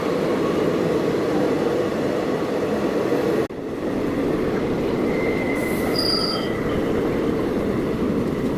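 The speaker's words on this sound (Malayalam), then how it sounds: "വേറെ ട്രെയിൻ ഇതാ വരുന്നുണ്ട്" A passing train rumbles steadily near a railway bridge, loud and continuous throughout, with a brief dip partway through and thin squeals of wheels on the rails toward the end.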